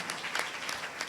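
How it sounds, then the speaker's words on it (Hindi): A church congregation claps together during a Sunday service, a dense steady patter of many hands, moderately loud and sustained, with no speech over it. "ताली बजाकर प्रभु को धन्यवाद करें"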